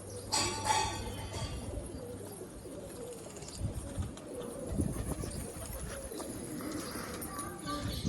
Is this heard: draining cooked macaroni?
no